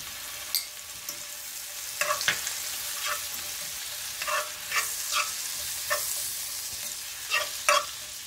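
Shallot and garlic sautéing in a pan, a steady close sizzle broken by scattered clinks and scrapes of stirring, with no voices.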